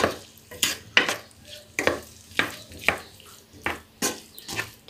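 Potatoes stirred in a pan while frying, a soft sizzle under repeated scraping strokes about every half second, close and moderately loud.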